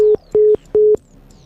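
A phone call ends in a repeating disconnected tone: three short, loud, steady electronic beeps with even gaps, heard alone.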